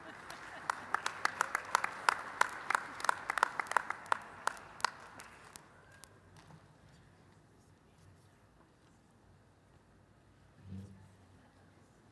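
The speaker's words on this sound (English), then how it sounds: "if you would like to give a shout out or applaud as your student walks across the stage, feel free to do so" A few hands clap in sharp, separate strokes at a fall college convocation ceremony for liberal arts and sciences graduates, about a dozen claps over several seconds before fading into a quiet hall with a low murmur near the end.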